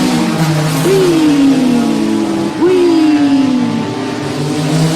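A car engine hums and revs steadily along a narrow mountain road in Spain with blind corners, the pitch rising in two sweeping surges as the car accelerates, close and continuous throughout.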